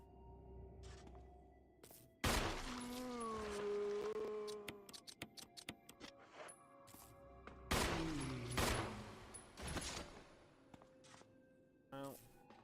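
Gunfire in Resident Evil HD Remaster on PS4, played as Jill on Hard: loud sharp shots stand out in two main bursts, with scattered smaller impacts and game noise between them and a player talking over parts of it.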